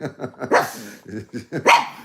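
An agitated dog at home barks repeatedly in quick, gruff bursts, with rhythmic huffs building to two louder yelps, close and clear without speech.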